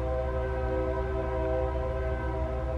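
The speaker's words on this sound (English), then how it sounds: "let me go wave to the train." A passing train sounds its horn, a loud sustained multi-tone blast held steadily and close throughout, rumbling low underneath, with no talk.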